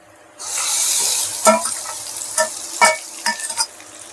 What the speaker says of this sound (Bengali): এবার আমি আলু আর ফুলকপিটা যে ভাজছিল দিয়ে দিচ্ছি।